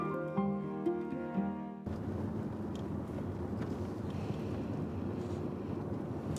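Steady cold north wind rushing across an open vineyard, a dense broadband roar buffeting the microphone continuously after a brief quieter opening with faint tonal sound.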